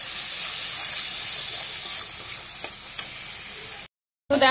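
Tomatoes with a pinch of salt fry in oil in a pan, giving a steady close hiss and sizzle with a few faint clicks, dropping to silence near the end before a brief noise returns.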